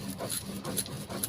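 Spice paste for a papaya curry is ground on a grinding stone, giving faint, rhythmic rubbing strokes about twice a second.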